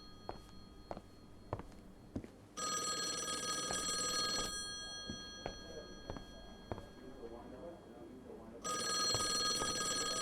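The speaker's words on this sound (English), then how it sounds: "where's the phone?" In the game Call of the Elder Gods, an old telephone rings in two loud, sustained bursts separated by a pause, with scattered footsteps and light movement between rings.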